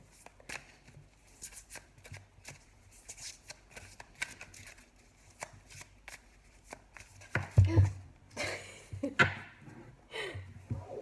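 Tarot cards are shuffled in quick papery riffles and taps, faint at first, then louder bursts of card handling toward the end, with a voice speaking softly at times.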